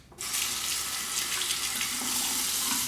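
A tap is turned on and water pours steadily into a sink, close and continuous, with no voices, rinsing a razor after a shave.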